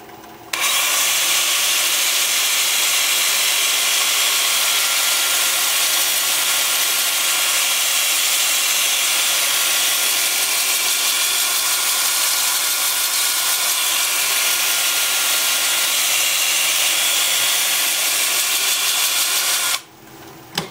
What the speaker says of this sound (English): I'll have the lathe spinning forward at 350, and I'll alternate between forward and reverse